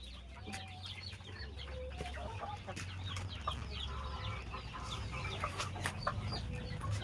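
Chickens clucking in a coop on an egg farm, many scattered clucks and short calls from several birds over a low steady hum, moderately close and fairly quiet.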